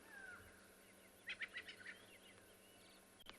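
A bird calling at sunrise on a safari, a quick series of five or six faint, high chirps in about half a second, heard at a distance over soft steady background noise.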